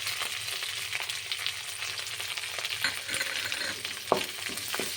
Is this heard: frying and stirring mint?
yes